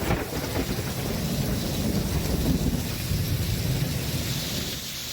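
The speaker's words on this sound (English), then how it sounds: "Listen to this crackle of thunder we recorded about an hour and a half ago." Heavy rain pours steadily during a thunderstorm as a long, rumbling crackle of thunder rolls through, loud and continuous with a faint wind behind it.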